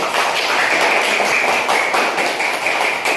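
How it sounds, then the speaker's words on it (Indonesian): A classroom group claps for a student team during a lesson, dense, steady hand clapping held at an even loud level throughout with some rhythmic pulses, and no talk. "tepuk tangan untuk kelompok mencair."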